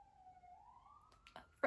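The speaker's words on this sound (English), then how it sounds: "There's a siren." A distant fire station siren test wails steadily and slowly rises in pitch around noon, followed by a few sharp knocks or bumps close by near the end.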